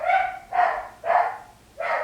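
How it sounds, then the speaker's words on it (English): A dog barks four times in a loud, close, agitated series, each bark spaced roughly half a second apart, with no voices over it. "My dog just started freaking out for whatever reason."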